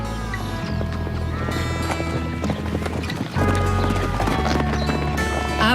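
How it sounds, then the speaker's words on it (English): Horses' hooves clip-clop on a stud farm, a steady near rhythm mixed with other background sound, growing slightly louder toward the end. "horses just seem to be really happy out here"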